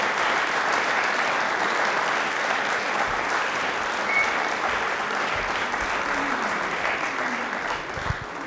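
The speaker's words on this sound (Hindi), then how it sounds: "जोरदार तालियां हो जाएं वाइस चांसलर डॉक्टर बिस्वजॉय चटर्जी के लिए" A studio audience at a televised quiz programme applauds the vice chancellor, sustained, even clapping from many hands that carries on for several seconds.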